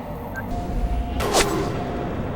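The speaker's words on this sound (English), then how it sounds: "Gunfire." Gunfire in the sci-fi shooter Mass Effect 2: a single sharp shot or short burst cracks out midway through a low, rumbling ambient hum, somewhat distant and brief.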